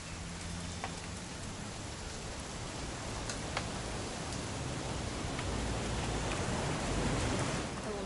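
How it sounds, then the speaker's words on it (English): Steady rain from a video game set in a strange old mansion, with a dense, even hiss of falling drops that holds throughout, close and moderately loud, with no talk. "It's gonna rain the whole weekend"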